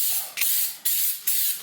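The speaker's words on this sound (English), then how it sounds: "it's Flex Seal. Figured a couple coats of this, close out some of these holes" Flex Seal sprayed onto a new garden shed to close up holes: three short aerosol bursts, close and steady, each a breathy hiss with a brief gap between.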